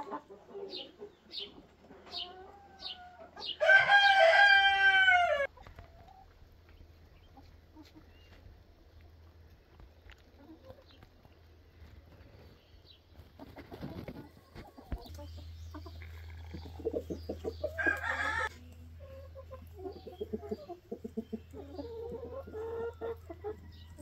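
Cinnamon Queen hens let out onto grass cluck softly at close range, with a few louder squawking calls and scattered pecking and rustling amid a quiet outdoor hum.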